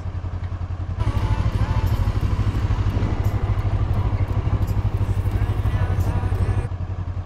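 Motorcycle engine during a riding-school training session in Constanța, Romania, with a steady close mid-pitched drone and rhythmic throttle pulses throughout, dropping slightly at start and end.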